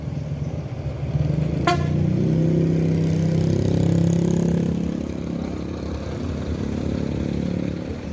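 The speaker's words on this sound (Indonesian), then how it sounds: "Ini bus Johnny Walker." The diesel engine of a Johnnie Walker intercity bus idles and rumbles steadily up close under cloudy skies, with a sharp short horn toot early on and a faint whine riding above the drone.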